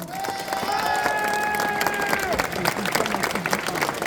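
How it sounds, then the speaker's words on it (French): Convention audience at a Simpsons voice-actor panel in Blois bursts into sustained applause and cheering, a dense wash of clapping with tonal whistles or cheers riding over it early on. "Je pense que ça mérite Geek Life un tonnerre d'applaudissements."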